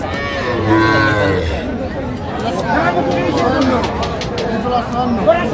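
Young bull calves low at a busy cattle market, several moos rising over a steady babble of traders and buyers talking nearby.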